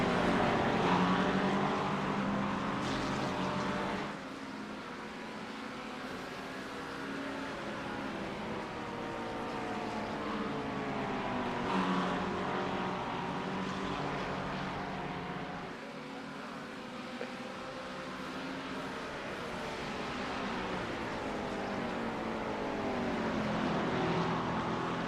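Race car engines at Spa in iRacing, with a McLaren and Porsches on track, drone continuously with shifting, layered pitches that rise and fall across the laps, loud and without speech.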